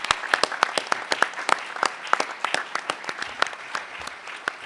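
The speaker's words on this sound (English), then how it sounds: "let's please give a final round of applause to our panelists" Audience applause for panelists at the close of a talk on election cybersecurity: a modest crowd clapping in distinct, uneven claps, fairly close, with a faint murmur of voices underneath.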